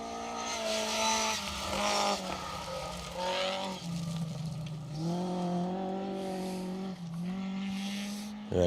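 An Avenger rally car races past on a Welsh Rally Championship stage, engine howling through repeated rising and falling gear pulls, loud and close with brief lifts between shifts.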